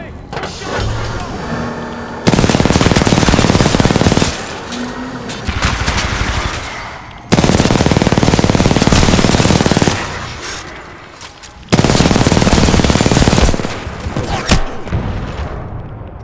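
Gunfire in the video game Titanfall 2, with several long bursts of loud rapid automatic fire separated by short pauses filled with quieter battle noise.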